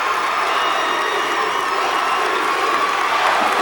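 A high school football crowd at a state Class C final cheers and whoops loudly as first-team players leave the field, a dense continuous roar of voices throughout.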